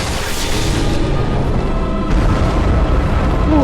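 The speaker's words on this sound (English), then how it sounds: "That AoE explosion is like an instant death." A large area-of-effect explosion in the video game Bloodborne, a loud, dense boom that fills the whole clip and swells again partway through, with no talking.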